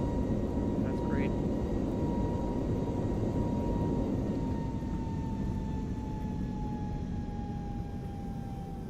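A ToLiss A321neo thrust reverser in the X-Plane 11 flight simulator roars steadily during a gusty landing, a loud broadband engine rush with a faint whine that eases slowly and holds throughout.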